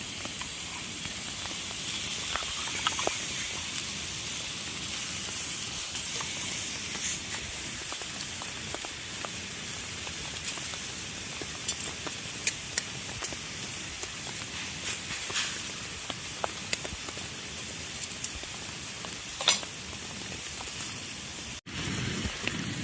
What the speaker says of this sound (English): let's give this steak a quick flip over